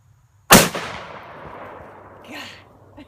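A single heavy blast from a Smith & Wesson 500 revolver fired with hollow-point rounds, loud and close, with a sharp onset and a long rolling echo that fades over a few seconds, no talking.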